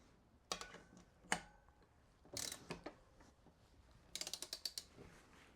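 A torque wrench tightens a small 8mm crank bolt on a bicycle bottom bracket, giving a few separate ratcheting clicks and then a quick burst of rapid ratchet ticks, close and crisp against a quiet background.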